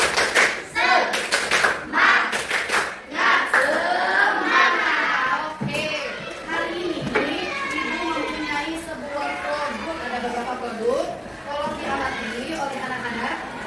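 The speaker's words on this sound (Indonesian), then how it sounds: "Tepuk semangat." An elementary school class performs a rhythmic spirit clap, sharp patterned claps followed by children chanting together in unison, with lively group voices continuing afterward.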